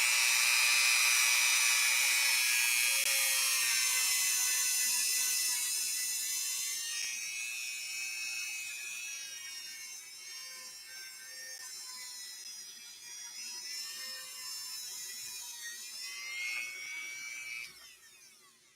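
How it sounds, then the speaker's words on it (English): A Dremel rotary tool whines at high pitch, strongest at first and then slowly fading and wavering as it spins on, ending abruptly. "I'm going to do a little bit of maintenance on our Dremel tool. Just turned it on."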